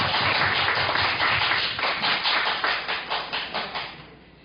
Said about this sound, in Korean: 박수 한번 환영합니다